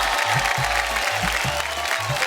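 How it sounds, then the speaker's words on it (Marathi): A TV show studio audience claps loudly and continuously, with low music beats pulsing underneath the dense applause. "एकदा जोरदार टाळ्या होऊन जाऊ देत"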